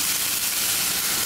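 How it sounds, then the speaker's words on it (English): Garlic and wine sizzle in a hot pan, a steady, dense hiss and crackle that holds at an even level throughout, close by, with no talking. "Oh, more crackling and sizzling."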